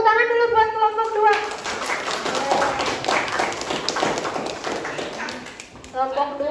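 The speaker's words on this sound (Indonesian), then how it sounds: "Yuk, tepuk tangan dulu buat kelompok 2." A classroom of students bursts into sustained applause for a presenting group, loud and dense clapping for about five seconds, bracketed by a teacher speaking before and after.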